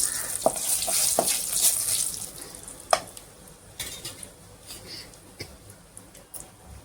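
Dried red chillies, broken by hand, sizzle and crackle in hot oil in a pan for a Tamil-style mango dish, a steady close fry with scattered pops and the occasional clink of a stirring spoon.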